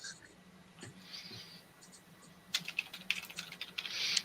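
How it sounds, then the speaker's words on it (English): Quiet keystrokes on a computer keyboard, sparse at first and then quickening into a steady run of clicks near the end, with a low hum beneath. "I'm just typing up a reply to it now as well."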